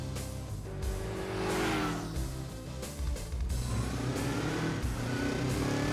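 A car drives in a PS1 video game, with a loud, dense engine roar that revs and surges continuously, with no pauses, throughout.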